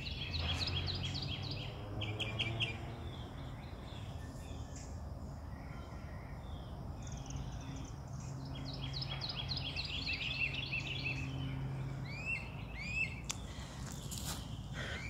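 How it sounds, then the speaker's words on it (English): Birds chirp and call in a garden on an April morning, scattered bright twitters over soft background hum, moderately near and fairly faint throughout. "Do you hear that? The birds chirping."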